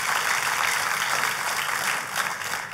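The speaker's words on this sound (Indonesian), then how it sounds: "Kalau mau tepuk tangan yang paling meriah saudara" Church congregation applauding, a dense, steady wash of clapping from a large crowd that stays loud and even throughout.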